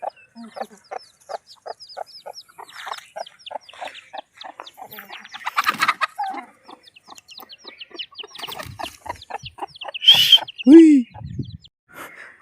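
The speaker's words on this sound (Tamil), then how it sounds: "இந்த கருங்கோழி இது வந்து நாட்டுக்கோழிலேயே கிராஸு" A black chicken, a native-breed cross, clucks in a rapid, regular series of short notes, with occasional louder squawks and someone talking in between.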